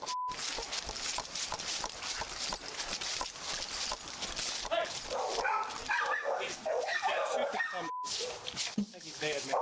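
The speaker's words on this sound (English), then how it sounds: "together they rush toward the sounds of barking coming from the backyard" Several dogs barking in a backyard, loud and dense throughout, mixed with busy noise and voices, with a brief dropout near the end.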